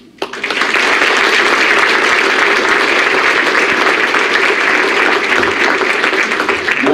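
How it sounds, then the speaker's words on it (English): A large crowd applauds senior athletes at a university athletics awards assembly, loud, dense and continuous from a quick start to the end, with no talk over it. "One more round of applause, please,"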